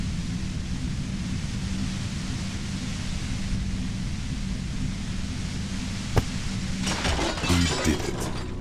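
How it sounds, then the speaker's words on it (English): A compressor in Disco Elysium gives way with a sharp crack followed by a scatter of shattering, clinking debris, after a steady loud hiss of machine noise fills the space. "The compressor lies broken on its side."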